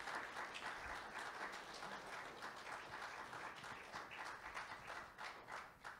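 A church congregation applauding, giving a hand of praise at a celebration of life; dense, steady clapping from many hands continues evenly throughout, with no talk over it.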